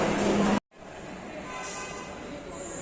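The Shatabdi Express from Bangalore to Mysore rumbles along at a steady, moderate level, a broad continuous wash of rail noise after a brief sharp cutoff at the start.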